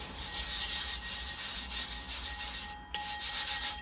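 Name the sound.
wood piece rubbing grit on sharpening wheel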